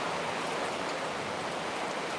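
Steady, dense rain hiss from an approaching storm, a constant even wash of sound with no breaks and no voices.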